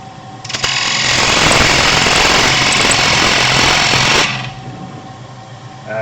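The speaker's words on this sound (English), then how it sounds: "I'm slicing across the side of the end grain this way." A round nose wood-turning scraper slices across end grain on a lathe while shaping a lidded box, giving a loud, continuous rough rasp that holds for about four seconds before dropping back to the lathe's hum.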